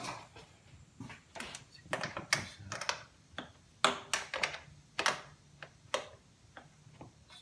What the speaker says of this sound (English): Still using my 10mm wrench.